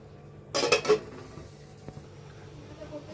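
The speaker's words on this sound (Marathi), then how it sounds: "झाकण ठेवते मी याच्यावर" A metal lid set down on a cooking pot of water brought to a boil, one short clattering clink up close, followed by quiet kitchen background with a faint knock.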